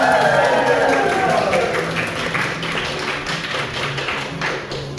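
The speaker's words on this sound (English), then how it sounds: "Give Lark a round of applause." Applause and scattered clapping from a live theatre audience after a magic card trick, moderately loud and steady at first, then thinning and tapering off, with talk mixed in.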